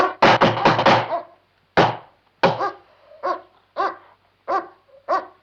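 A dog barks close and loud, first in a rapid burst of several barks, then in single, evenly spaced barks, with short silences between them.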